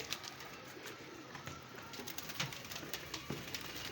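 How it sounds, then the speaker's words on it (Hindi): Many pigeons gathered overhead at a rooftop pigeon-flying show, giving soft low cooing and occasional bursts of wing flaps over steady outdoor background noise, fairly quiet and at a distance. "ऊपर कबूतर ही कबूतर।"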